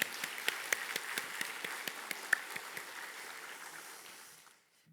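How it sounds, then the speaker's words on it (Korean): A church congregation gives thanks to its teachers with applause, soft and somewhat distant, sharp individual claps over a diffuse patter that tapers and fades out near the end, no voices present. "우리 교육자들과 우리 선생님들에게 우리 감사의 박수를 한번 보내드리도록 하겠습니다"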